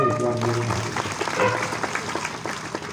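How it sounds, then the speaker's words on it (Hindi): Devotees at a Bhagavat Katha religious discourse clap in a sustained, fairly loud wash of applause, with a trailing musical tone at the start and some voices mixed in. "ताली बजाओ।"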